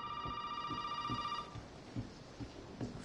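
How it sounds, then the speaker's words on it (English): In Resident Evil 7, played in VR, a telephone rings with a bright electronic trill that cuts off, followed by faint footsteps and creaks in a quiet room. "Phone ringing."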